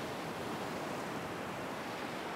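Ocean surf breaking on a sandy beach, a steady broadband wash of waves with no pauses, fairly even in loudness and heard alone without voices.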